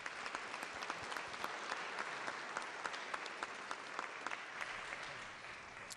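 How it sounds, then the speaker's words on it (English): Applause fills a state legislature chamber as members stand to welcome a visiting community leadership group, steady and sustained for several seconds with scattered sharper claps standing out from the dense wash. "If they could stand up and give them a warm round of applause."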